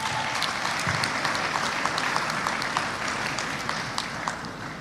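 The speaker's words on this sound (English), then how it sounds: "Please give them a round of applause." An audience at a university fall convocation ceremony gives sustained applause: a thick, even wash of many hands clapping together, loud and continuous throughout, with a faint murmur of the crowd beneath.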